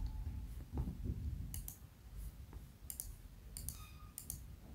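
A computer mouse clicks a few times while working in an Excel spreadsheet, quiet sharp clicks spaced irregularly over a low room hum, with no talking.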